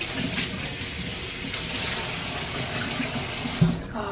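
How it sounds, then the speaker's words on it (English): A kitchen sink tap runs steadily while hands are washed, a close, continuous hiss of flowing water with light splashing, cut off abruptly near the end, with no talking. "Wash my hands."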